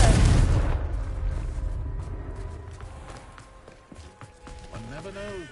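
Confringo blasting spell in the video game Hogwarts Legacy: a loud booming blast at the start that slowly rumbles away over several seconds, followed by faint footsteps and a brief voice near the end.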